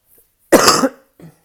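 A single sharp cough close to the microphone, followed by a brief faint throaty sound.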